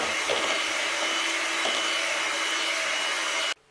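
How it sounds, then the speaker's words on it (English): An electric mixer beating cake icing with butter, a steady loud whirring motor hum running unbroken for several seconds before cutting off abruptly, close and with no talk. "we're going to turn our electric mixer on and we're going to mix it all together until it's combined"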